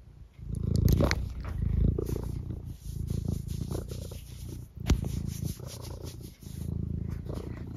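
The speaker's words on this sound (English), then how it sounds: "It's a very high-pitched purr you've got there." A cat purrs close by in steady, rumbling waves, with a few brief chirpy vocal bursts rising above the purring.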